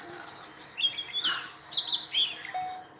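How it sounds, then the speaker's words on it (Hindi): Birds outside a house chirp and tweet in quick, high bursts, several calls overlapping at moderate distance against a quiet outdoor hush. "पक्षियों की आवाज़ आ रही होगी आपको।"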